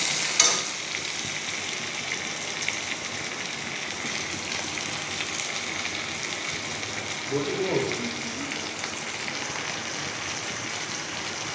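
Prawns frying in a pan for a bottle gourd prawn curry, giving a steady, even sizzle throughout with a brief clatter at the start and a faint voice in the middle.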